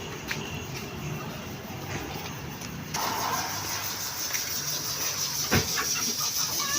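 A car engine turns over and catches about midway, then runs steadily at close range with outdoor background noise and no talking.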